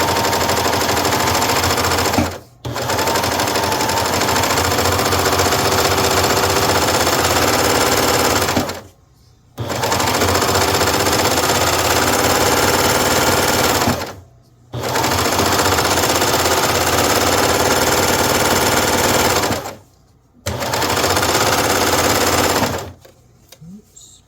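A Baby Lock serger sews a rolled-edge ruffle on fabric for a pillow, running in four long, steady, loud whirring bursts separated by short pauses, close and with no talk.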